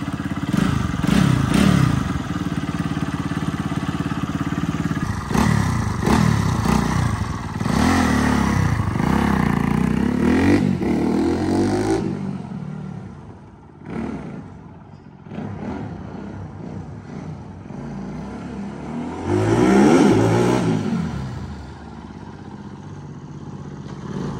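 A dirt bike idles and revs up close, its engine roaring in repeated bursts before dropping to a rougher idle, with clattering and scraping mixed in.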